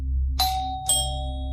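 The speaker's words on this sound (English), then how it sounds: "rang the doorbell on the Haynes family home" A two-tone ding-dong doorbell chimes once at a family home, two clear ringing notes about half a second apart that fade over a low steady hum, with no talking.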